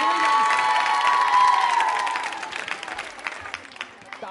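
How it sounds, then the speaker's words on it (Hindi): Applause and cheering from a college audience at a Rajasthani culture quiz show, loud at first under a sustained tone, then thinning into scattered claps and shouts. "आप जोरदार ताली बजाइए।"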